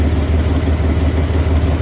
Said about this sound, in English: Okay, watch that when I rev it up.